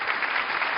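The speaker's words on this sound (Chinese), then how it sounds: "掌声有请" A brief, even burst of audience clapping at a Suzhou pingtan storytelling television awards ceremony, heard alone and without talk.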